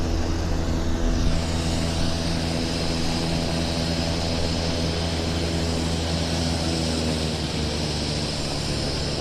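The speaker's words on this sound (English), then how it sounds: "So much noise, actually, because we're at the South Terminal and there's airplanes starting engines everywhere." Aircraft engines run up at Vancouver Airport's South Terminal, a steady, loud broadband roar with low propeller-like drone holding constant throughout, no talk over it.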